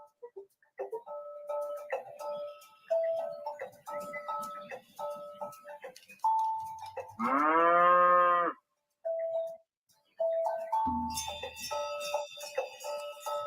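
Cattle on a pasture let out one loud, drawn-out moo in the middle, surrounded by bright, melodic bell-like music.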